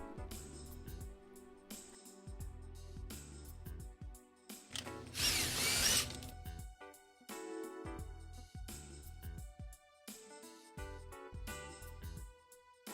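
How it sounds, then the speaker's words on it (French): A power screwdriver tightens a hose clamp on a pipe fitting during a solar water heater installation, running in short whirring bursts with pauses between, one louder burst in the middle, no talk. "Vissez le collier de serrage."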